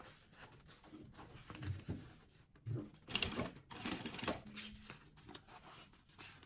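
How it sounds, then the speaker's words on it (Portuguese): A sewing machine stitches synthetic fabric for a baby kit in short, quiet bursts of rapid mechanical whirring, separated by pauses and soft handling noises, with no speech. "eu viro ele todo pra trás e vou fazer essa costurinha pregando o material aqui embaixo"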